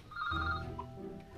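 A telephone rings with a bright electronic trill, loud and close, fading into a brief tail of background noise.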